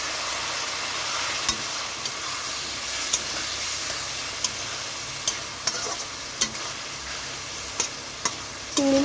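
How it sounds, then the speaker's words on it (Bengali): Spice paste with water added sizzling and frying in a pan while making prawns with cashew paste, a steady close hiss broken by occasional stirring scrapes and clinks, no talking. "মশলাটা কষানোর জন্য এখানে দিয়ে দিচ্ছি জল"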